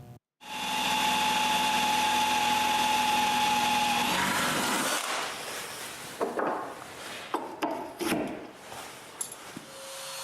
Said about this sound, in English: so I drill a hole for the locking pin